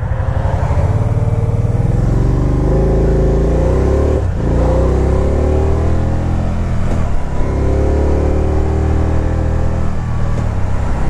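A 2012 Can-Am Spyder RT-S three-wheeler engine pulls hard and loud, revving up through gears with clear upshifts around four and seven seconds, each followed by a renewed rising drone.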